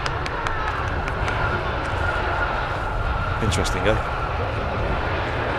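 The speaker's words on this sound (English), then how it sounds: "Beautiful Dreamliner there. Let's have a look at that livery, shall we? Choose Singapore." A Singapore-liveried Boeing 787 Dreamliner at Manchester Airport produces a steady, distant engine roar beneath continuous conversation and a few light clicks.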